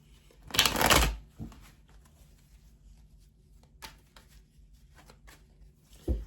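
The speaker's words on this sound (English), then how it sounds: "Let's shuffle these up and see what the cards have to say." A brisk riffle of a tarot deck being shuffled, loud and close, followed by quieter taps and shuffles of the cards.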